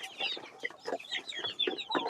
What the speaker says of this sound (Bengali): এগুলো হলো বিশ দিন বিশ দিন বয়সী টাইগার মুরগির বাচ্চা